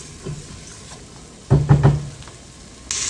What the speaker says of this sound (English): So you can hear our onions are starting to sizzle.